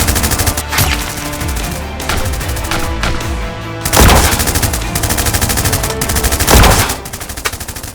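Rapid bursts of Nerf blaster fire in a Free Fire-style Nerf war short film, loud and close, with repeated rattling volleys and sharp hits across the whole stretch, heaviest near the middle and end.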